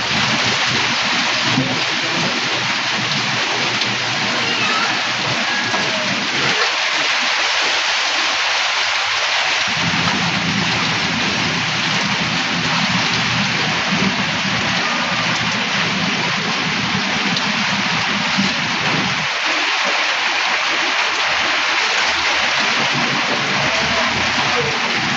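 Heavy rain pours down steadily as a downpour, a dense continuous hiss of drops drumming on surfaces, loud and close throughout with no pauses.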